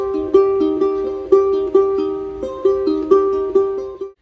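Ukulele finger picking, clear and close: single plucked notes ring out one after another in a steady, gentle pattern for several seconds, with no voice over them.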